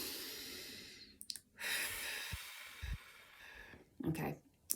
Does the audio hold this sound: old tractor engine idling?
no